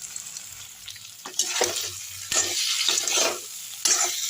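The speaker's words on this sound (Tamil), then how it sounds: "இப்போ உருளைக்கிழங்கை போட்டுடலாம் அவ்வளோதான் இது நல்லா செவுக்க வறுத்துடலாம்" Potatoes being stir-fried in a pan for a quick roast, a close hissing sizzle broken up by scraping stirs, with no talking.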